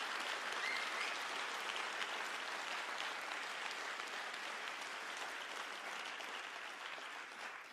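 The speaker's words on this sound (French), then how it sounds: "que je vous demande d'applaudir chaleureusement" An audience at a Paris peace gathering for the Middle East applauds warmly, a dense, steady wash of clapping from many hands that holds evenly throughout and tapers only slightly at the end, with no voices standing out.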